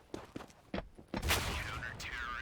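Counter-Strike gunfire on the Dust 2 map during a competitive match, with several sharp shots followed by a dense, loud burst of firing. Other game effects ring out as the firing continues, and a caster's voice can be heard faintly underneath.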